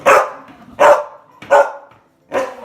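A dog barks four times in a slow, evenly spaced series, each bark sharp, loud and close, with short quiet gaps between them.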